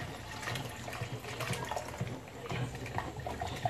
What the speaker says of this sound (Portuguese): E agora a gente vai colocar um copo de água